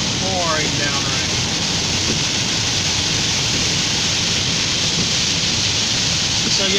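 Heavy rain pours down on a moving vehicle in Wisconsin, a dense, constant hiss and drumming that fills the clip at steady loudness, with a faint voice speaking underneath.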